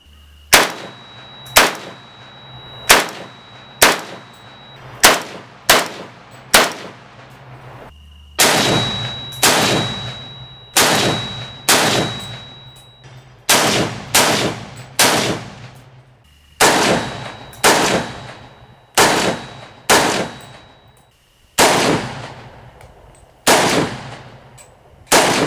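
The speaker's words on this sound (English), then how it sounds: "you may have noticed some ringing with the four-prong flash hider" An AK-47 rifle fitted with a four-prong flash hider fires in loud, sharp shots, each followed by a sustained high metallic ring; groups of four to six evenly spaced shots repeat with short pauses between strings, no talk.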